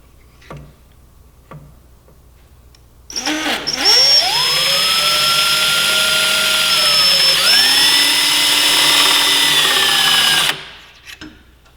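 Power drill running with a 1/4-inch bit on a Yamaha R3 during a toe guard install, a loud steady whine lasting about seven seconds that dips in pitch midway as the bit bites, with faint clicks before and after.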